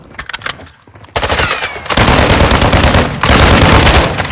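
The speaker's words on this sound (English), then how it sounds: "Who the fuck is shooting at me?" Rapid automatic gunfire from Call of Duty: Modern Warfare 2 DMZ, loud and close, in dense bursts that grow into near-continuous firing after a short lull.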